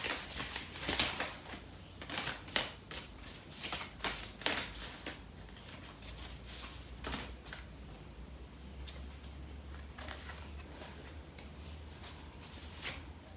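Lover's Oracle tarot cards are shuffled by hand in a quiet room, giving repeated crisp riffling bursts and soft slaps that come in irregular clusters, with no voices.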